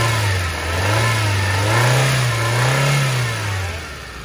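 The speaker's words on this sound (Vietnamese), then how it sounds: "ga lên một chút để bà con chúng ta nghe cái phần máy của nó nhé" A 2010 Daewoo Gentra sedan with a 1.2-litre four-cylinder petrol engine and manual gearbox revs from idle, its note rising and falling in two or three smooth swells, loud and close with no talk.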